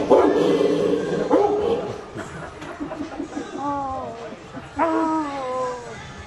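A man imitates a dog, making a few short yipping, bow-wow barks with rising, whining pitch, close up after a stretch of background talk and crowd noise.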